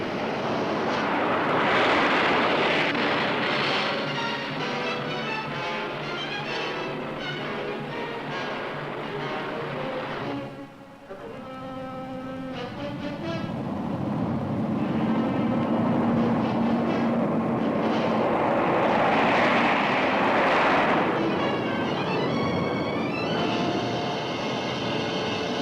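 Boeing B-52 Stratofortress bomber engines in flight, a loud continuous jet roar with shifting tonal whine that dips briefly midway before swelling again, heard alone without talk.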